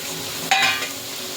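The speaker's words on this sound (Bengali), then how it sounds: "খুব সুন্দর ভাজা হচ্ছে" Vegetables with yellow and green capsicum frying in a pan, a steady soft sizzle broken by a brief louder burst as food is stirred or added, no talk.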